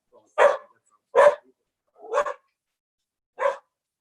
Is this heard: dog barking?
yes